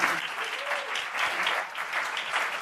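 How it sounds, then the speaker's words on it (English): Steady audience applause for a panel at a military families and community integration event, dense and even clapping filling the whole stretch with no voices over it. "So I want to first ask you to applaud our audience."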